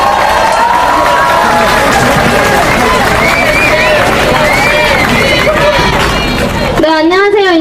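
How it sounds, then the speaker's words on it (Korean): A crowd at an outdoor candlelight protest rally in front of KT, condemning spy agency election interference, claps and cheers in a dense, continuous roar, with shouting and babble mixed in and a voice rising above the noise at the end. "큰 박수로 함께 모셔봅시다."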